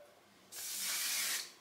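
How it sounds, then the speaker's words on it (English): A can of Moroccan Oil Luminous Finish Strong hairspray gives one sustained hissing spray burst lasting under a second, close and fairly quiet, starting abruptly and tapering off. "I like to hairspray as I move up my head"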